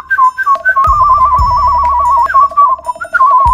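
A person whistles a bright, chirpy melody that imitates a small bird, with trilling notes and quick pitch glides running nearly the whole time, close and fairly loud, over a low muffled rumble.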